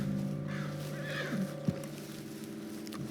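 A spooked horse in Red Dead Redemption 2 lets out a short, faint whinny over a low ambient game hum, followed by a single soft thud.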